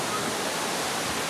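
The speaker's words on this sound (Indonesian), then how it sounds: "Kalau di area Semarang air terjun paling bagus ini." Curug Lawe waterfall near Semarang roars as a steady, broad wash of falling water, loud and continuous throughout, with no clear voices over it.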